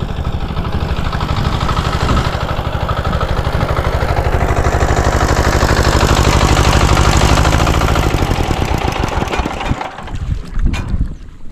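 A boat engine runs loud and steady with a low throbbing idle, then cuts off near the end, leaving quieter rustling and wind.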